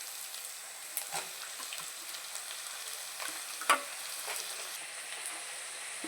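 Chopped broad bean pieces fry with onions in a pan, giving a quiet, even sizzle with light scraping and clicks of stirring and one louder knock partway through.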